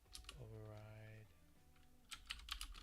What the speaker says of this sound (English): We'll just type it by hand then.